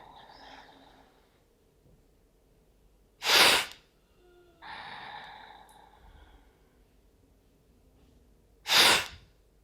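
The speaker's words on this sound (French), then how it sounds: "sur l'expiration, on va expirer fortement, un petit peu comme en Kapalabhati" Two sharp, forceful nasal exhalations a few seconds apart during Kapalabhati-style yoga breathing aimed at clearing a cold or sinuses, each a loud burst of breath with a softer breathy sound between them.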